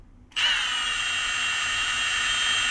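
A Milwaukee 2988-22 impact driver on its fourth speed setting spins up abruptly after a short silence into a loud, steady high-pitched whine that holds evenly to the end.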